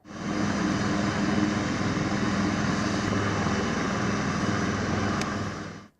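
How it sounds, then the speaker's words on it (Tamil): Army rescue helicopters fly over a disaster zone, their engine and rotor noise a continuous, fairly distant drone that rises in and fades at the end. "மீட்கப்பட்டவர்கள் ராணுவ ஹெலிகாப்டர்கள் மூலம் சூரல்மலைக்கு கொண்டு வரப்பட்டனர்"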